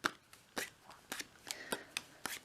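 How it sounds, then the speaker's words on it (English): A dealer shuffles a deck of cards in a quick run of crisp riffles and snaps, each burst short and close, repeating in a steady rhythm with no talk. "What the dealer does is grabs that deck and shuffles it"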